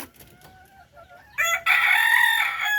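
Chickens and ducks being fed corn on a farm: a few soft clucks and calls give way to a loud burst of crowing and squawking fowl, close and continuous through the end.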